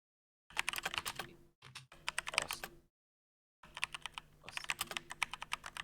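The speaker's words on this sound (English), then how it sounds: "I'm pretty much done typing there for now" Bursts of rapid typing on a computer keyboard, close and crisp key clicks in several runs separated by short silent pauses, with no voices.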